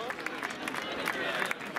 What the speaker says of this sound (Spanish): Gemma Olave, un aplauso fuerte para ella.